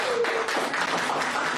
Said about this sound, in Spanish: un aplauso para Doris.